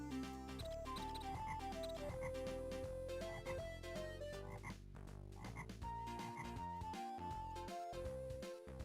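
Croaking frogs in a video game, heard over a dense layer of game music that keeps playing throughout, the croaks mixed into the music rather than standing out alone.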